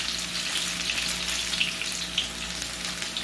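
Onion sizzling as it drops into hot oil tempered with cumin seeds, curry leaves and mustard seeds for kadhi pakora, a steady close, bright crackling fry with no talking.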